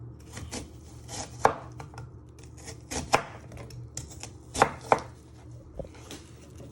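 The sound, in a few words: chopping food with knife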